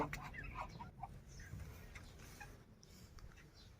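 A mother hen with small chicks clucks softly in a farmyard. The low, faint, scattered clucks and little peeps come from nearby under quiet outdoor background noise.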